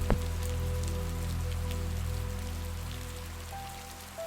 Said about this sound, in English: the gentle patter of raindrops on the rooftop